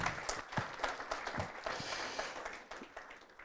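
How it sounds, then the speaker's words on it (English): Faint, somewhat distant applause rises from an audience at a foundation's survey report event. It comes as uneven clusters of claps that gradually thin out, with no talk over it. "Let's give a big, big round of applause."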